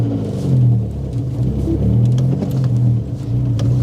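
A Mini Cooper S drives in second gear, its engine giving a low, steady rumble close by with mild swells in revs and no talk over it.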